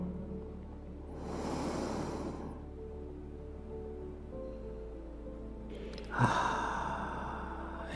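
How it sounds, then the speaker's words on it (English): A deep inhale during a guided breathing exercise: a long, soft rush of breath drawn in close to the microphone, followed by a second, sharper breath a few seconds later against a quiet background. "another inhale. And another inhale."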